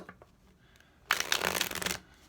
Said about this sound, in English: So, let me shuffle 3 times.